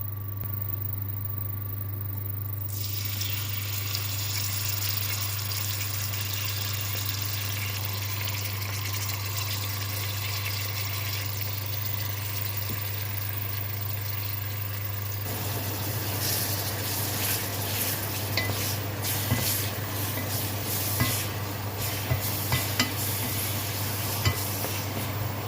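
Chopped onion frying in hot mustard oil in a pan gives a steady, close sizzle over a low constant hum, turning busier with scattered stirring crackles toward the end; no one speaks.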